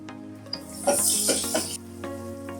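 Boiled marinated chicken shallow frying in a pan of coconut oil for chicken roast, a bright crackling sizzle rising in bursts with a few utensil clinks, close and loud.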